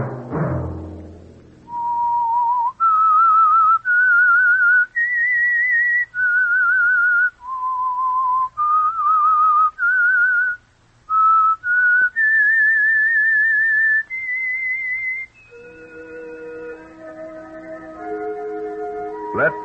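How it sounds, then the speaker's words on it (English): A person whistles a clear, bright tune of sustained notes rising and falling in phrases, ending with a short musical chord. "Let that whistle be your signal for the Signal Oil program"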